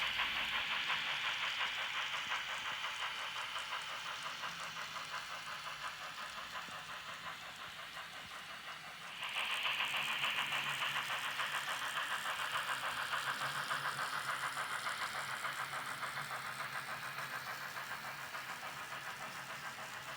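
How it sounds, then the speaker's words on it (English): Union Pacific locomotive 844 hauls an excursion train through Echo Canyon in Utah on the Wasatch grade, giving a continuous distant rumble with rhythmic rail clatter that swells briefly midway and then slowly fades. "844 and the excursion train that it is pulling disappears from sight at Echo, Utah"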